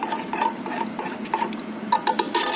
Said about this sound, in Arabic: لازم نقلبه كده كويس علشان البهارات اللي جوه تدوب كده معانا